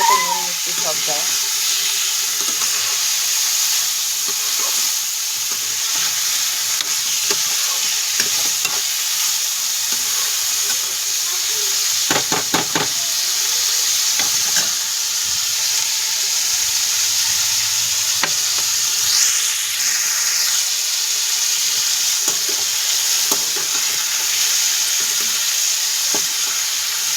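Food for palak paneer sizzles and fries in a pan while being stirred, a loud, continuous crackling hiss with the scrape and clink of a spoon recurring throughout.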